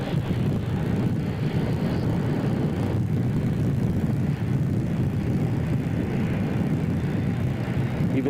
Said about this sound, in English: The plane captains are starting up his auxiliary power in order to start the engines.